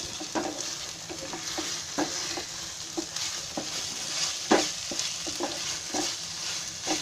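Masala cooked with khoya being stirred in a pan over lowered gas, a steady close sizzle with repeated scraping strokes of the spoon, no talking.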